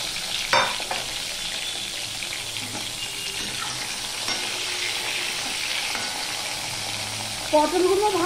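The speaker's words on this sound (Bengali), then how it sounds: "এবার আমি পটলগুলো ভেজে নেব" Pointed gourd (potol) pieces fry in hot oil in a wok, giving a steady close sizzle throughout with a few brief clatters of stirring or handling.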